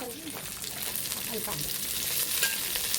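Washed moringa leaves drop into a hot pan in a home kitchen and sizzle while being stirred for a lentil dish, a steady moderate frying hiss with faint stirring scrapes throughout.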